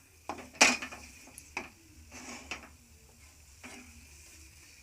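Spice mixture being stirred in a cooking pan, with a sharp metallic scrape or clink near the start followed by softer, intermittent scraping strokes over a faint low background hum.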